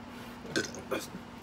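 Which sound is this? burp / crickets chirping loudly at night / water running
burp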